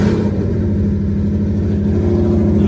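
A loud Gen 3 Coyote V8 engine in an S197 Ford Mustang idles with a deep, lumpy, header-dumped exhaust rumble, steady and close throughout.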